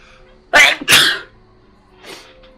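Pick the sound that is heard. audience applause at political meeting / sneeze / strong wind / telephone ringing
sneeze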